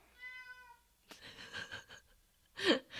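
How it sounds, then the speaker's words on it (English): A pet cat meows in the background of an indoor room, one drawn-out tonal meow, then a quieter one and a sharper louder meow near the end, faint and alone without talk. "there's the cat if you didn't hear him back there."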